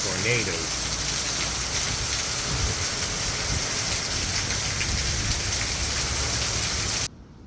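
Tropical Storm Debby drives heavy rain and gusting wind across a road in Lakeland, a dense, loud, steady roar of pouring water that cuts off abruptly near the end.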